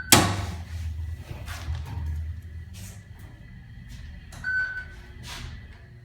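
A Dover oildraulic elevator's door slides shut inside the cab at Brown Hall, Tennessee Tech University, with a sharp thump at the start, a low mechanical rumble, faint bumps and a brief electronic chime near the end.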